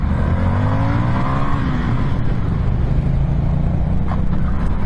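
A 2021 Indian FTR motorcycle accelerates hard in first gear, its engine note climbing steadily and loud and close throughout, with wind rush beneath it.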